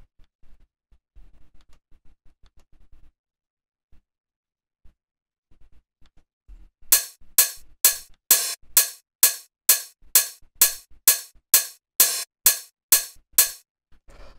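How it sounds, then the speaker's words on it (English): Layered hi-hat samples from a minimal house track, a steady run of crisp, bright ticks in an even rhythm. The run comes in after several seconds of near silence with faint low thumps. "after that, we have the hi-hats, which all together sound like this."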